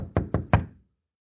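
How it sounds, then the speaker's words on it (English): Three quick knocks land on a door in an even rhythm, close and crisp, with a short decay after the last and nothing else around them. "there was a knock at the door"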